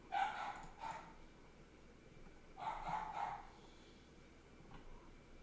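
Dogs barking indoors in a house, two short bursts of a few barks each, moderately faint and somewhat distant, with quieter room noise between.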